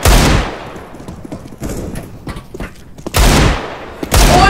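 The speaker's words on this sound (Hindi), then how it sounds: "गोलियां बरसा दी मैंने अभी।" Gunfire erupts in the CS:GO video game: a loud burst at the start, then two more close, heavy volleys near the end, separated by quieter clattering.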